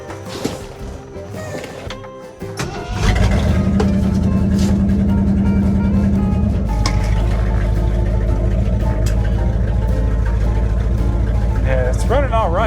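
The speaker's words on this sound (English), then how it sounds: "I'm gonna go ahead and fire this thing up" A Ford Galaxie cranks over and fires up, then settles into a loud, rumbly running idle with a heavy, unmuffled exhaust drone that holds steady, with brief talk near the start.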